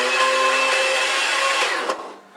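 A blender whirs steadily at high speed with celery inside, a loud continuous motor drone with a steady whine that falters near the end and then trails off.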